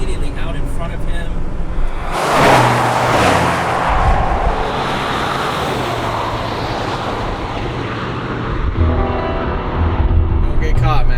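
A Ford Bronco with a VelociRaptor 400 setup launching in a drag race against a stock Bronco, with a loud engine surge and tire spin roaring up and then holding a strong, sustained drone as it pulls away.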